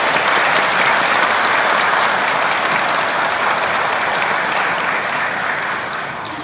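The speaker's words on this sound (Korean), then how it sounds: "우리 모두를 위해서 또 박수 한번 칠까요?" A crowd at a Korean political rally applauds together after being invited to clap for everyone, loud sustained clapping that fills the space and slowly fades toward the end.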